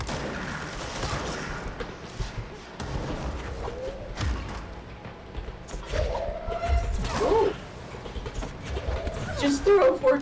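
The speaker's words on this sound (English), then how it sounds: "Just threw a forklift at him." A forklift hurled at an enemy crashes with heavy thuds and smashes amid busy combat noise in the action game Control, with several impacts scattered across a dense, loud mix.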